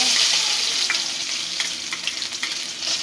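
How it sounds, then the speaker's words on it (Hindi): Chopped onion and green chilli fry in hot oil in a pan, a dense close crackling sizzle that stays steady, with light stirring clicks and no voices. "इसको मैं थोड़ा सा फ्राई कर लूँगी।"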